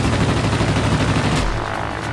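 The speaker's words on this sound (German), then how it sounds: "Wird auf mich geschossen etwa?" Sustained gunfire aimed at the player's plane in the World of Warplanes video game, a dense continuous rattle of shots that stays loud throughout, heard alone without talk.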